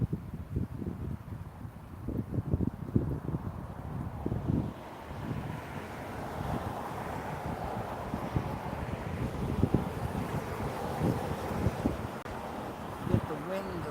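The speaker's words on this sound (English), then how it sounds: "Get the wind to settle down." Gusty wind buffets the microphone outdoors at Myrtle Beach International Airport, a steady loud rumble with low thumping gusts running throughout, and a voice speaks over it.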